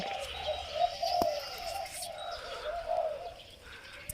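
A spotted dove coos a few soft, repeated notes at a distance, faint against quiet outdoor background noise.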